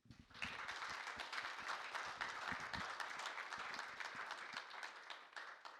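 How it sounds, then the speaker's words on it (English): Audience applause following a film screening about the opioid epidemic, a dense, steady burst of many hands clapping that swells quickly and fades near the end. "Can we give another round of applause for this remarkable film?"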